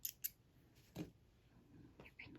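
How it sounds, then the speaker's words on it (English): A pair of scissors handled during crochet prep, with a few faint, brief metallic snips and clicks near the start followed by quiet rustling handling noises. "pair of scissors"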